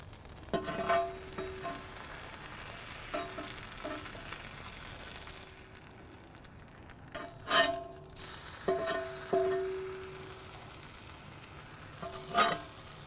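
Sweet onion and tomato frying on a hot cast iron kamado griddle beside smashburgers, a steady sizzle punctuated by sharp metal spatula scrapes and clanks, close and clear with no talking.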